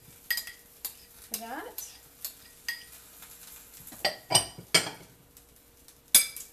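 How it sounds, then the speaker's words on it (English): Chunked avocado mixed into tomatoes in a bowl, a soft run of spoon taps, clinks and wet scraping strokes, fairly quiet and irregular, with a brief spoken word. "I'm going to go ahead and mix in my avocado"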